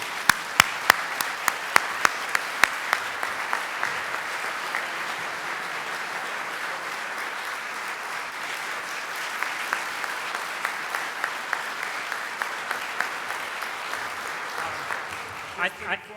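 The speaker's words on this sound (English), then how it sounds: "A well-deserved round of applause, and I think we need one more for our keynote speaker." Sustained audience applause for a keynote speaker at an aviation symposium, a dense steady wash of many hands clapping throughout, with a few sharper individual claps standing out near the start and again toward the end.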